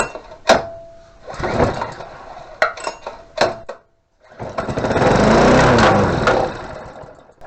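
A few sharp pull-cord yanks and clatters, then a Lawnchief lawn mower engine catches and runs steadily, loud and close, for several seconds.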